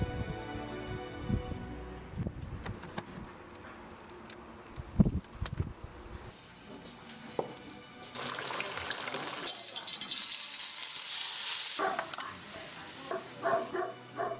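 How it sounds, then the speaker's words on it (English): Soft wet stirring and tapping sounds come in uneven bursts as homemade shrimp paste is stirred in jars, then a stretch of hissing, sloshing noise, fairly quiet and close with no talking. "jar holding the sauce is opened and stirred during the day"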